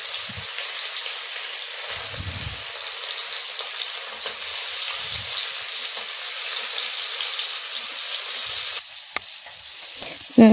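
Small chuna fish fry in hot oil in a pan for a curry, giving a steady close hiss and sizzle that lasts throughout. Soft stirring knocks sound now and then, and the sizzle drops off near the end.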